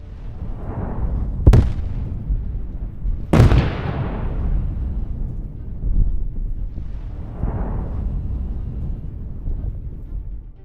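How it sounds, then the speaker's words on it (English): Two sharp, loud blasts from battlefield explosions crack a couple of seconds apart, each fading into a low rolling rumble, with the deep booming continuing in the background. "Explosions erupt one after another."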